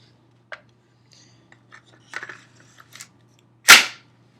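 A Beretta CX4 Storm .45 ACP carbine is put back together after cleaning. Sparse, close metallic clicks and light taps lead to one sharp, loud snap of parts locking into place.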